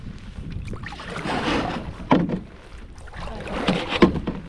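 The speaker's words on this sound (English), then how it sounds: "I'm paddling backwards because I'm trying to go around. this island" Canoe paddle strokes splash and drip as a light sassafras canoe is paddled backwards around an island in cold early spring, with water swishes rising twice over a steady background of wind and lapping water.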